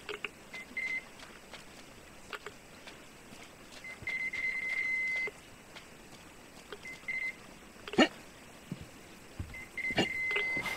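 Electronic beeping from an unseen device in the Metro Exodus video game, short high tones repeating in irregular bursts over quiet game ambience with a few soft clicks.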